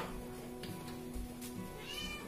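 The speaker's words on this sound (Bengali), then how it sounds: "ম্যাও ম্যাও করে যাচ্ছে" A hungry cat meows several times, fairly close, over a quiet room with faint household background and no talking.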